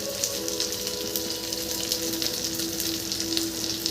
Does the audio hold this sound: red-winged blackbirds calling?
no